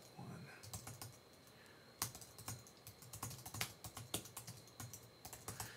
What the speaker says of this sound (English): I'm going to type in the message.